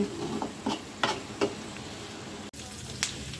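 Vetki fish frying in oil in a pan, with a steady faint sizzle and a few soft scrapes and taps as the pieces are gently turned, and no voices.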